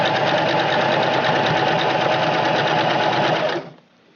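A sewing machine runs loud and steady as it stitches and backstitches a seam on a duck-shaped pillow. The continuous motor hum holds for several seconds, then stops abruptly.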